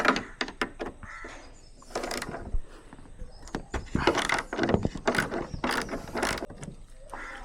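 Clicking ratchet loosening the spoiler bolts on a Honda Civic with a 10mm socket, rapid close pawl clicks in repeated strokes with metallic handling noise between them, no talk.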